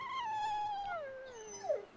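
A dog whimpers in Tales of Berseria with a single drawn-out, falling whine that ends in a short rising yelp, close and fairly loud, with no voices.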